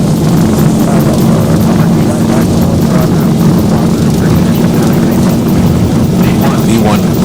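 An American Airlines airliner's takeoff roll out of Philadelphia in a flight simulator game, with a loud, steady jet engine roar and rumble throughout while the crew calls out checks over it.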